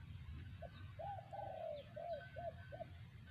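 A spotted dove coos softly in a short rhythmic phrase of several rounded notes, distant against a low background hum.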